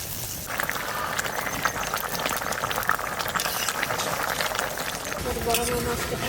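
Hilsa fish heads boiling in a pot, a steady loud bubbling and simmering that runs throughout, with a brief clatter near the end.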